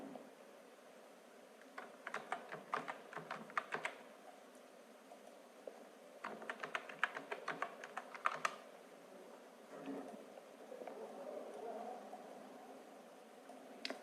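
Keyboard typing while entering text in CorelDraw: quick clusters of light key clicks in two main bursts with a softer patch later, close but quiet over a steady low room hum, with no talking.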